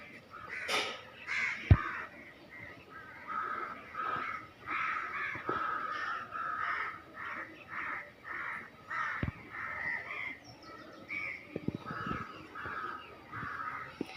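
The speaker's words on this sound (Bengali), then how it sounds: "দেখছেন ওখান দিয়ে কাকেরা কি অবস্থা করতেছে" Many crows caw repeatedly in a noisy, overlapping chorus at dusk, at moderate distance near trees, with occasional sharp knocks nearby.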